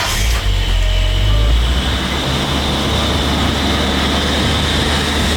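A Toyota JZX100 Chaser engine cranks and catches, then settles into a loud, steady, close-up rumble with a constant broadband roar and no voices.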